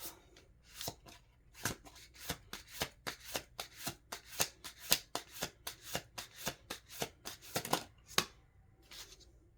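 A new tarot card deck being shuffled by hand, a steady run of crisp riffling flutters repeating in quick rhythm for several seconds, close and clear with no talking.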